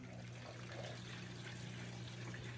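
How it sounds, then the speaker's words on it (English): Water steadily draining through a siphon hose from a 55-gallon aquarium, a continuous, even trickling rush with a low hum underneath, constant in level throughout. "All right, the siphon's going"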